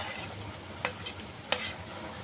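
Curry sizzling in a pan after a drizzle of mustard oil, a steady frying hiss with a few sharp spatter pops and brief stirring scrapes near the middle and end.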